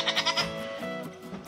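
A goat bleats in a quick series of wavering cries, close by, followed by softer trailing bleats.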